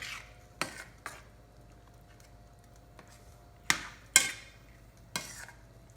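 Salt is stirred into a millet and eggplant curry in a pot, giving a handful of sharp, separate scraping clinks of a spoon against the vessel over a quiet background.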